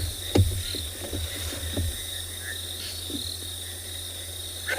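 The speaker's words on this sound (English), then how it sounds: "Attract a really nice kind of background noise from the crickets." Crickets chirp at dusk on the Tswalu safari reserve, a steady continuous high trill forming the background, with a few soft scattered knocks and calls mixed in, no talking.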